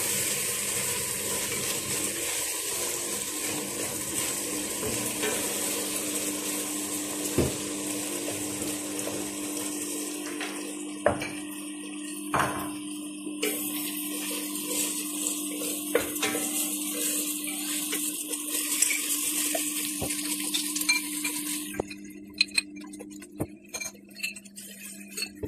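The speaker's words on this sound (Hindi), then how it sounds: "कर दिया हमने इसको मिक्स सारे मसालों को" Onion, tomato and garlic masala with garam masala, turmeric, salt and chili stirred in a pan, a long, low, steady sizzle with scattered ticks and clinks of a spoon on metal.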